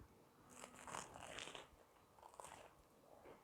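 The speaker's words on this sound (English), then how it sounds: "Hear that crunch in the bread?" Someone bites into the crunchy bread of a steak and sharp cheddar cheese sub made in a Ninja Foodi, giving a few close, crackly crunches followed by chewing, with no talking.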